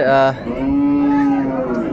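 A dairy cow moos loudly and close at the Raniganj livestock market in Dinajpur, one drawn-out low call after a brief higher bleat, with faint background bustle.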